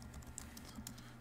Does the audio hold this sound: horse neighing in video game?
no